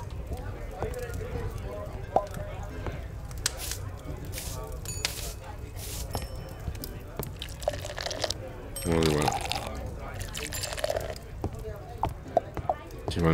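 Water pours in the Travellers Rest video game, a brief splashing burst under steady game background sounds and a continuous bed of noise.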